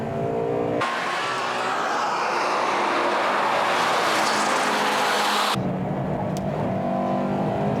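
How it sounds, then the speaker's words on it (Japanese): A Honda Integra Type R chases a Toyota Supra around the SUGO race circuit in 2000, with loud, sustained engine roar and tire noise, the sound cutting abruptly between close on-track and in-car perspectives. "インテアール、インフィールドでスープラについていけるか"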